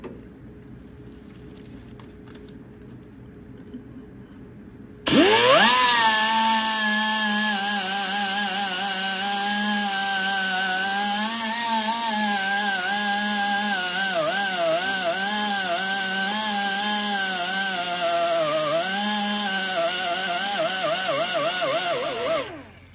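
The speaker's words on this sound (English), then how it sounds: "Got my wire wheel. I'm gonna try to clean up some of this paint back here." A wire wheel on a power tool scrubbing paint off a 1950 Ford F1 truck: after a quiet start the tool spins up suddenly and holds a loud, steady whine and scraping buzz that wavers in pitch as it bears down, then stops abruptly.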